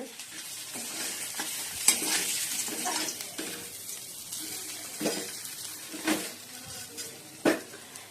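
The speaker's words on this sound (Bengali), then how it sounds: "মাছগুলো ভেজে নিচ্ছি। এই মাছ ভাজা হয়ে এসছে।" Fish frying in a pan in a home kitchen, a steady oily sizzle broken by scraping stirs and a few sharper clinks of utensil against metal, close up with no talking.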